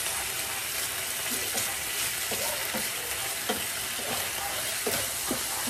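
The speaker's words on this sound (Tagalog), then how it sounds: "lagay na natin itong sibuyas" Chopped onion sizzles as it hits hot oil with frying corned beef in a pan, a steady dense crackle broken by soft stirring scrapes, close and fairly loud with no talking.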